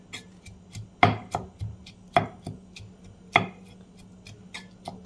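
Lemon pieces being crushed with a wooden rolling pin, sharp thudding knocks at roughly one-second intervals, each followed by lighter taps and scrapes, close and fairly loud.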